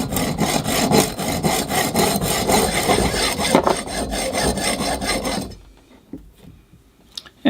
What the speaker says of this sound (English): The hacksaw blade is a little thicker than the one I used before, so I may get some chipping in that